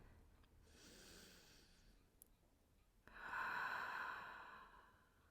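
Slow, quiet breathing during a relaxing yoga session: a soft inhale through the nose followed by a fuller, breathy exhale, close to the microphone with no talking.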